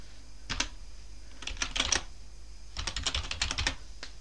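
Bursts of clicky keystrokes as a password is typed on a computer keyboard during an Ubuntu 23.10 installation, coming in three clusters of rapid taps with short pauses between them, close and clear with no talking.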